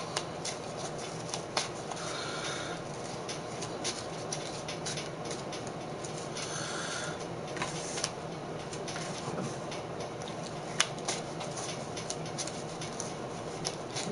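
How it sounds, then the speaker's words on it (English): A Blue-Eyes trading card deck is shuffled by hand, making soft riffling and tapping clicks that recur irregularly for about fourteen seconds, faint and close, with no talking. "I'm gonna shuffle my deck."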